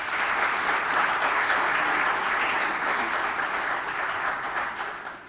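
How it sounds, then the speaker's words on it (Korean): A crowd applauds steadily throughout, dense and sustained clapping at a public hearing on a fake-news legislative petition, with no voices on top. "여러분 큰 격려의 박수 좀 보내주시기 바랍니다."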